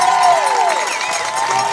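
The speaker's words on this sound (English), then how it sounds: "That's the Waunakee crowd right there." The Waunakee home section at a high school varsity football game cheers loudly as their team runs onto the field, a brief burst of whoops and shouts from a packed crowd.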